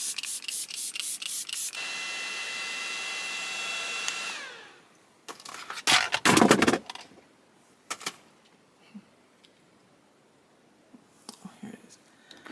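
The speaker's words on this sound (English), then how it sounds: "Spray my face." Makeup setting spray misted onto a face: a long steady hiss for about four seconds, then a louder burst of spray, followed by quiet handling noises and small clicks nearby.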